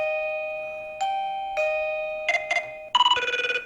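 A phone rings with an incoming call from an Alfawise L10 wifi doorbell, sustaining a clean electronic tone, then a few bright chimes and a quick run of rising ringtone notes, loud and close.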